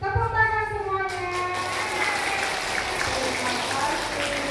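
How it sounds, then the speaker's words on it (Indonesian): Children clapping together at a daytime group session, a scattered burst of small hands under an adult voice speaking at the start, then settling into a steady, moderate patter. "Tepuk tangan semuanya."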